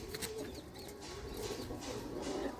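A loft of hobby pigeons coos in an overlapping low murmur, close and steady, with scattered light taps and a brief flutter of wings against a noisy background.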